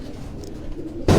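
Racing pigeon cooing at a loft in Quetta, a soft low coo continuing for about a second before a sudden loud burst of noise at the end.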